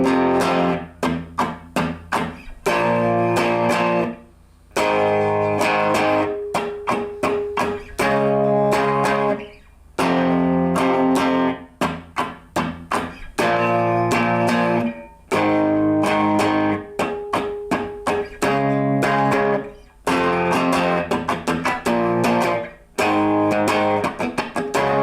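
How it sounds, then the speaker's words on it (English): Electric guitar plays a main riff slowly with distortion, loud chord stabs separated by short muted gaps in a repeating pattern, close and clear, with no talking. "I'm going to show you that main riff in real slow motion,"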